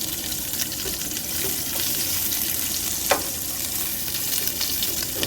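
Onions fry in a hot pan at a camp, a continuous close sizzling hiss with a few sharp crackles and pops, no speech.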